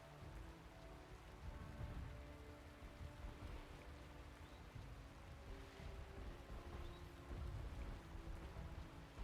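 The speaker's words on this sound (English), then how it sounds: "You can just stay inside and enjoy the rain" Steady, soft rain patters continuously with a low rumbling wash underneath, distant and even throughout, with no voices.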